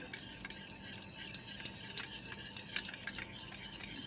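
A spoon stirs a few drops of homemade alta dye in a small container, giving a steady run of light, close scraping and clinking sounds with no voices.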